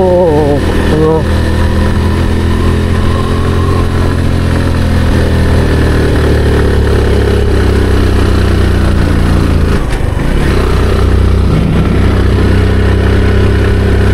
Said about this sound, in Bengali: বাট সেকেন্ড গিয়ারে বাইক উঠে গেছে।